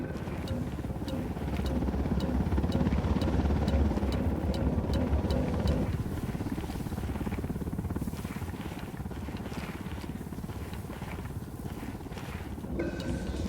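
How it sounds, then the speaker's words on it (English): Helicopter in the Ghost Recon Wildlands video game, a steady rotor chop and engine drone that holds at moderate loudness throughout, with other game ambience mixed underneath. "Hit the dirt. Helicopter."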